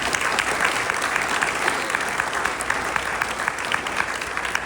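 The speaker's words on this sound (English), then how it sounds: "give her a round of applause, please" A dense, sustained round of applause fills a banquet hall at a reunion farewell dinner, steady and fairly loud throughout with no voices standing out.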